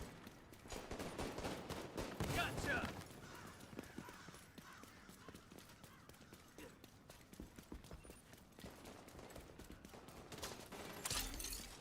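Pistol shots in a video game, fired in short bursts of sharp cracks over a busy backdrop of game ambience and clattering effects, with a louder cluster near the start and another near the end.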